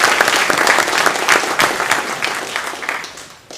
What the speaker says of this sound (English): Let's have a round of applause for our loved ones as well.